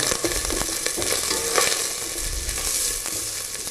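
Chicken soup ingredients cook in butter in a pot, a close, steady sizzle broken by stirring scrapes and soft knocks, with no one talking.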